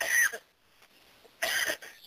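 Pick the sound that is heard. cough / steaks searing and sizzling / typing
cough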